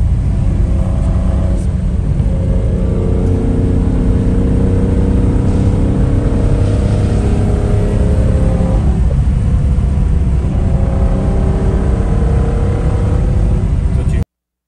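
A 1971 Citroën SM engine idles and runs close by, a steady loud low rumble with a faint rise in revs partway, under murmured talk.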